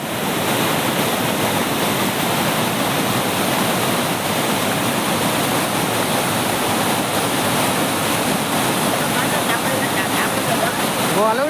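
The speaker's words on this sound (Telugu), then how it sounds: "సోకులేరు వాగు ఉధృతంగా ప్రవహిస్తోంది" Sokuleru stream in flood after heavy rains, pouring fiercely across a national highway in Alluri Sitarama Raju district, makes a loud, unbroken broadband roar of churning water that stays constant from start to finish.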